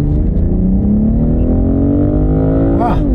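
A BMW six-cylinder engine revs steadily while driving, its loud rising harmonic drone climbing in pitch, then a brief gear-change blip near the end before it settles again.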